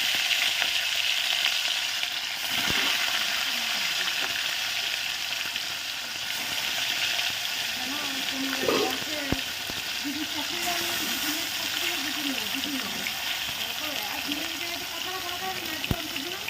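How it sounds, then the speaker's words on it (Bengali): Continuous sizzling and crackling of fish frying in hot oil, close by, with a person talking over it partway through. "এদিকে মাছ ভাজা হচ্ছে"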